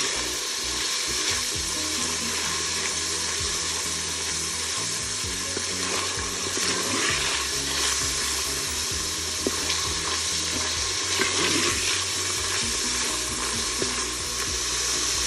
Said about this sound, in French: faire rissoler la viande.